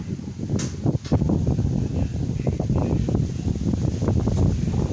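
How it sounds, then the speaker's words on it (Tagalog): Strong wind gusting steadily against the microphone outdoors, a dense rumbling buffet that continues without pause for several seconds. "Sarap ng hangin guys, pero malakas man, malakas lang"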